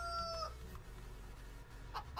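Chickens in a Polish farming simulation game: a brief high rooster-like crow at the start, then quieter clucking and faint fowl sounds over a low hum, with no speech.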